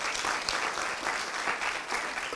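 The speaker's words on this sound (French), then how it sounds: "Vous pouvez vous applaudir ensemble" An audience at a round-table session on local food resilience applauds together. The clapping is dense, steady and moderately loud, holding evenly for a couple of seconds without any voices.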